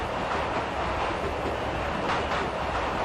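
Steady, continuous train running noise from the 1990s train simulator game Mechanik, a dense, even rumble and hiss with no talking.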